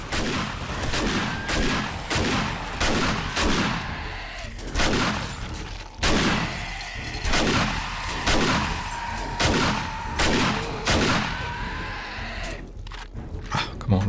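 Shotgun blasts from horde night in the video game 7 Days to Die, loud, booming shots repeating roughly every half second across the whole stretch with dense growling and chaotic action beneath, no speech.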